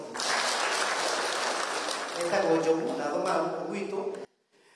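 An audience at a gathering applauds a housing investor with dense, loud clapping that holds steady for about four seconds, then cuts off abruptly; voices and cheers mix into the later part.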